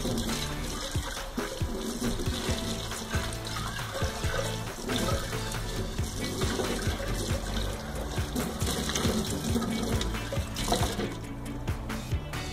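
Tap water runs steadily into a sink while an aluminium pan is rinsed, a continuous close splashing trickle with small shifts as the pan moves under the stream.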